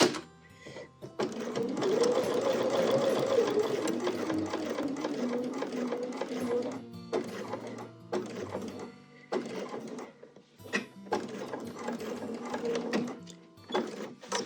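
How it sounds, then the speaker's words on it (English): A sewing machine stitches a mitered quilt corner with a steady close mechanical whir, then stops and restarts in short bursts as it backs up a few stitches. "what I want to do is sew to here, and then again I'm going to back up 3 stitches"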